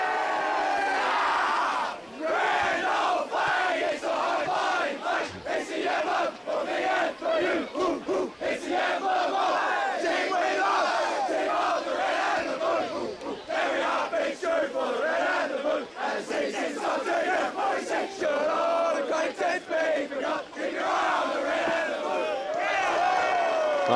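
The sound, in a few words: football team singing its victory song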